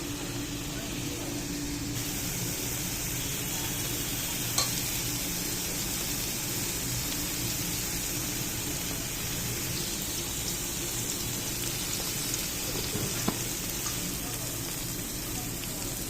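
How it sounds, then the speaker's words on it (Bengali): Boiled elephant foot yam dry-frying with spices in a pan gives a soft, continuous, rain-like sizzle that stays fairly quiet and even throughout, with a couple of faint clicks. "এটা একটা মশলা দিয়ে শুধু শুকনো ভাজা ভাজা করবো"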